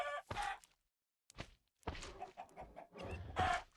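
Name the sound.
chickens clucking in a video game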